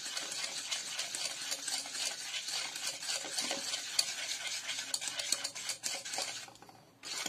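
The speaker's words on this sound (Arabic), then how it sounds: "نزيد مغرفة زبدة خياتي ونخلط" Butter is stirred into a melting chocolate mixture, a brisk, continuous scraping and swishing of a utensil against a bowl, close and fairly quiet, pausing briefly just before the end.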